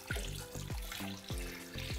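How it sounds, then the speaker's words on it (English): Water is poured into a stock pot over fish bones, onions, leek, carrots, celery and garlic for fish stock, giving a steady close splashing and gurgling in several pulses. "Add some water till you cover the bones"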